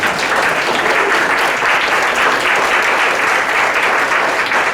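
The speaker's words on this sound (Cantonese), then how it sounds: "give the most appreciable applause to the guest" A large standing audience at a high table dinner in a hall applauds a departing guest, a dense, even wash of clapping sustained at full strength with no voices over it.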